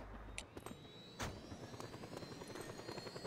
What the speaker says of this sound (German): Ich hab Helikopter gespawnt.